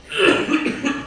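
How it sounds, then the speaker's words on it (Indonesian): A short cluster of rough, throaty coughs, close and fairly loud, in a couple of quick bursts. "Mau minum dulu saya batuk."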